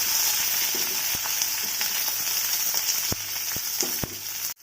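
Sliced onions frying in hot oil with mustard seeds, curry leaves and dried red chillies for a bean thoran, a loud steady sizzle up close with a few sharp clicks of a spoon against the pan.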